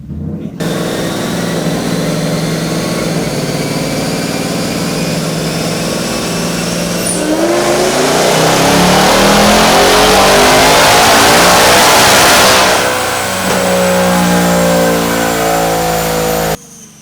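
A Whipple-supercharged, custom-tuned Ford Mustang S650 revs hard and loud up close, its engine note climbing steadily in pitch and peaking with a roaring crescendo before easing back down, with no voices present.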